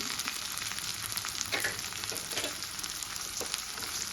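Chopped onion and tomatoes fry with salt in a hot pan for methi bhaji, giving a steady, close, crackling sizzle with small pops and no talking.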